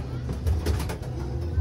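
A pigeon coos softly a few times in low, throaty bursts, close by, over a background hum of distant traffic.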